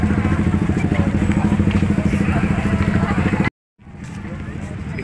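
Motorcycles rumble and idle in a crowded parking area as a concert ends, a loud steady engine throb close by that cuts out abruptly and then resumes more faintly, with voices in the background.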